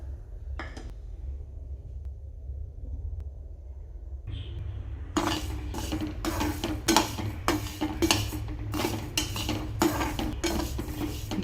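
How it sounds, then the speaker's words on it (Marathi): Bajra millet is dry-roasted in a hot kadhai over a gas flame, first a soft sizzle, then a run of sharp, rhythmic scraping and clinking strokes of a metal spoon stirring the grains against the pan. "सर्वप्रथम पहिले आपण बाजरी भाजून घ्यायची आहे चांगली लाल."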